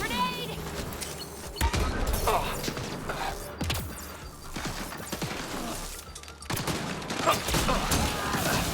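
A grenade blast and bursts of gunfire in the shooter game Mass Effect Andromeda, with loud sharp cracks and booms through a dense, chaotic battle mix, and voices calling out beneath the combat.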